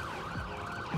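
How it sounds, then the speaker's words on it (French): A police siren from the video game The Crew wails continuously, its pitch sweeping up and down, fairly loud and steady with no voices. "des sirènes de flics"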